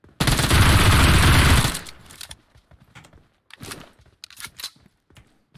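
A loud, dense burst of rapid gunfire in PUBG Mobile lasts about a second and a half up close, followed by scattered softer clicks and footstep-like shuffles.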